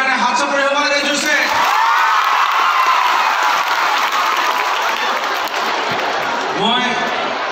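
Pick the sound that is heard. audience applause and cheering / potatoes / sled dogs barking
audience applause and cheering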